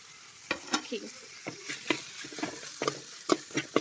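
Tomatoes frying in a pan with chicken liver, stirred briskly: a sizzling hiss broken by repeated scraping and tapping strokes of a spoon, close and without talk.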